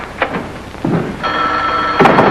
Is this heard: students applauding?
no